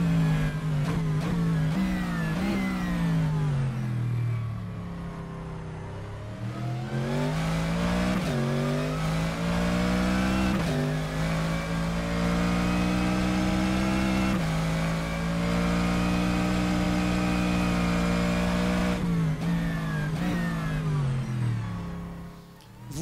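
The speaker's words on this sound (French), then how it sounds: "Vous l'entendez en caméra embarquée, le son est aussi très réussi." Onboard view of a GT3 race car in the rFactor 2 racing game, its engine revving loudly through the gears with brief dips on shifts and braking, then pulling hard again, sustained and close with no speech.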